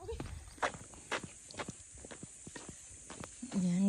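Goats walking along a mountain trail on Mt. Ayaas, with scattered hoof steps clopping at a moderate distance and some faint talk at the very start and end.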